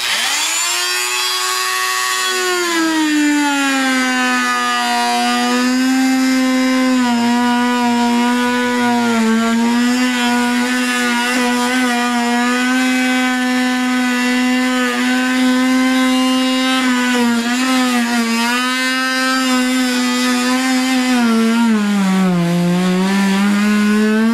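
A Dremel saw cutting through wood gives off a loud, steady, high-pitched motor whine that holds for over twenty seconds, its pitch sagging briefly whenever the blade bears down on the workpiece.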